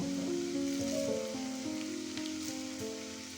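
Grated banana stem stirred into frying spice masala makes a faint, crackling sizzle with soft scraping of the stirring, fading slightly toward the end, accompanied by low tonal humming in the background.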